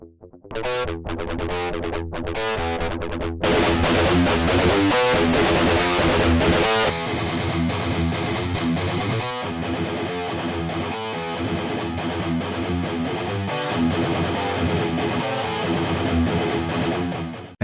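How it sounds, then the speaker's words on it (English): Distorted metal rhythm guitars from VST plugins in LMMS chug steadily for about eighteen seconds, loud and dense with no talk, the texture thinning slightly after the first few seconds. "Let's hear how the rhythm guitars sound."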